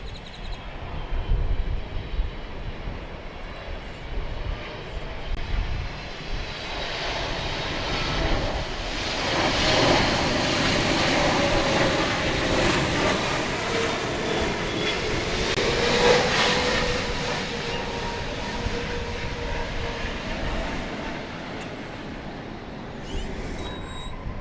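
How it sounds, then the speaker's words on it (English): A Boeing 777 jet airliner at DFW Airport roars past, a loud broadband engine rumble and whine that swells to a peak near the middle and stays strong throughout, with no talking. "This is a 777, flight 221."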